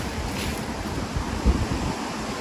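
Steady, roaring wind strong enough to bend tree branches buffets the microphone with low rumbling gusts, loud and continuous, with no voices.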